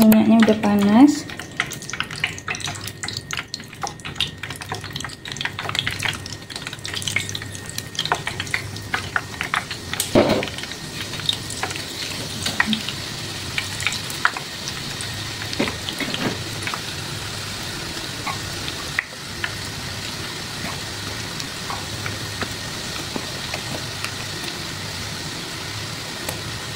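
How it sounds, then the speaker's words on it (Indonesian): Cookie dough frying in hot oil for Indonesian kue kering, a steady broadband sizzle and crackle running throughout, with occasional scrapes and clinks of a utensil in the pan. "Jadi ini mau langsung aja kita goreng ya, minyaknya juga udah panas."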